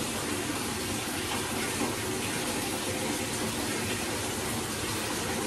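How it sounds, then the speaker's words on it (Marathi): Water gushes from a tap into a bucket at home in a steady, unbroken rush that stays even in level throughout, with no one speaking. "तर बाकीचं पाणी भरून घेते, बादली वगैरे."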